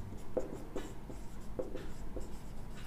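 A pen scratches across paper in short strokes close by, a few quick scribbles with brief gaps, as labels are written on a coordinate geometry diagram.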